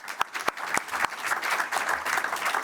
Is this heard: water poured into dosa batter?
no